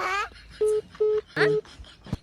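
Three short, steady telephone keypad tones beep in an even rhythm, with a voice speaking just before and briefly in between.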